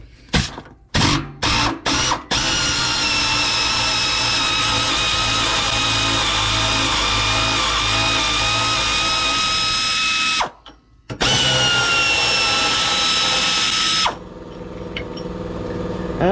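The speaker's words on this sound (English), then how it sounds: "I got my air ratchet up here." An air ratchet removes bolts during spring installation on a Ford Transit T350 HD motorhome, opening with several short bursts, then long continuous whirring runs broken by a brief pause, loud and close.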